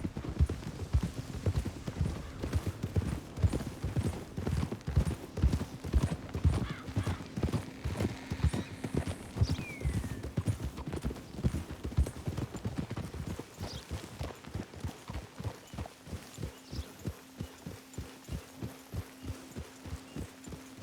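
Horse hooves clip-clop at a walk in Red Dead Redemption 2, making a steady, even rhythm that continues throughout over a low hum.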